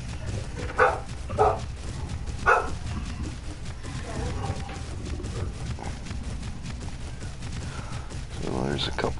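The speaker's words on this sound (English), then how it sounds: "Sorry for the noise in the background, that's just my dog." A pit bull barks in a few short bursts and then whimpers, off in the background, beneath louder game sounds and a voice.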